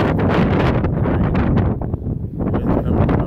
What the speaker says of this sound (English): Wind coming from the west northwest.